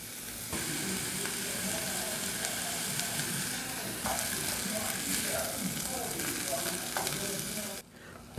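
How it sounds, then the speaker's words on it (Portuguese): Chopped maxixe gherkins sautéing in a pan, a constant soft sizzle with light stirring underneath, steady at close range before cutting off abruptly near the end. "Só deixa ele refogando aqui bem, ó, por uns 2, 3 minutinhos"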